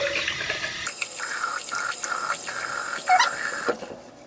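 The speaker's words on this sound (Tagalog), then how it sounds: "I'll just gonna wash my face" Tap water runs steadily into a bathroom sink during face washing, a continuous close splashing stream that starts abruptly and keeps flowing with small gurgles and drips, without talk.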